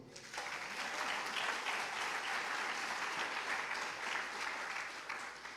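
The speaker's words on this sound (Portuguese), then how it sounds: "Aplauda o Senhor." Church congregation applauding during a sermon, a full, even roar of clapping from many people starting abruptly and holding steady throughout.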